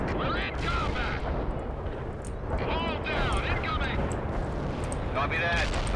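A World in Conflict battle with dense gunfire and booming explosions under constant radio-style voices. Sharp reports and bursts come repeatedly over a rumbling bed of combat noise.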